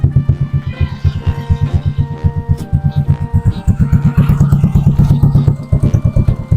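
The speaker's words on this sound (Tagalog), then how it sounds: "sumisip-sip na yung karburador natin ng ginawa nating gasolina" A small gasoline engine runs on homemade gasoline drawn through its carburetor, chugging loudly and close with a fast, steady throbbing pulse that continues throughout.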